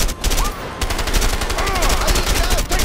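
Gunfire in the action game A Way Out, with rapid, loud bursts of automatic weapon fire crackling continuously through the clip alongside shouted voices and whizzing effects.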